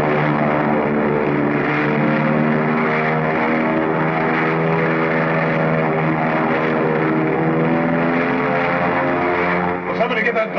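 An old propeller airplane takes off, its engine a loud, steady droning roar that holds throughout, with voices speaking over it.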